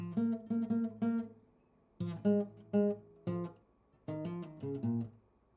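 An electric guitar plays the reggae bass line of a reggae song alone, as short, clean, low plucked notes. They come in bouncy groups of three or four with brief gaps between phrases, and no one speaks.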